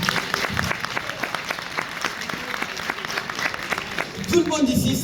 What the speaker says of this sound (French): Par applaudissement des musulmans.